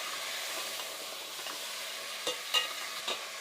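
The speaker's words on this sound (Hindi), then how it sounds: "अब हम इसे अच्छे से हिला लेंगे।" Potatoes and cauliflower for aloo gobi are stirred in a hot pan, a steady sizzle with a few sharper scraping clatters of the spoon toward the end, close and without speech.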